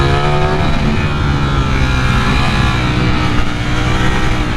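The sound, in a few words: Ducati Streetfighter V4 motorcycle engine revving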